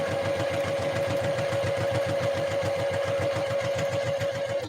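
A sewing machine stitches a dress at a shorter, non-basting stitch length, running in a fast, even mechanical rhythm with a steady whine. It sounds close and continuous, with no talking.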